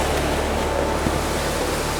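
Calm sea waves wash onto a surf beach in Niigata, Japan, in the early morning, forming a steady, even roar of broadband surf noise with no distinct breaking crashes and no voices.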